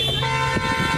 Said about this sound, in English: Passerbys honk their horns